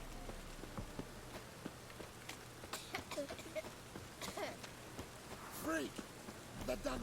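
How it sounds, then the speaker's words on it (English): Steady rain in the video game The Witcher 3 hisses softly over the whole stretch, with brief voice-like calls breaking through now and then. "Rain again. Damn mages."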